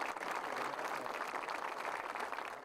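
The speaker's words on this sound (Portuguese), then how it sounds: "Com palmas, todos se despediram do rapaz." A crowd claps steadily at a police officer's funeral, a dense, sustained wash of hands that holds at even loudness and fades slightly at the end, with no voices above it.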